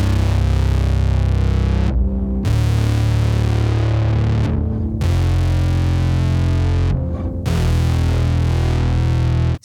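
An Exploder distortion pedal with a tape-saturation character drives a thick, fuzzy sustained tone, loud and dense, broken by a few brief gaps as notes change.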